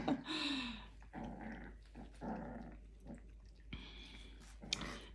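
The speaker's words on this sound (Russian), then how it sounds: "Вон они уже рычат, гавкают" Dogs growling and grumbling at close range while eating and play-fighting indoors, a run of low rough growls and whimpery snarls, fairly quiet, with a sharp knock near the end.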